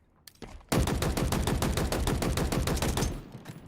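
Rapid automatic gunfire from a Halo Infinite weapon: a dense, loud burst of evenly spaced shots lasting about two and a half seconds, starting after a couple of faint single reports and ending abruptly.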